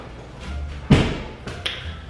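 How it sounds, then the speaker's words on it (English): Interior door pushed shut with a single sharp thud near the one-second mark, followed by quieter taps and soft handling noises in a small indoor room, no voices. "I'm gonna close the door."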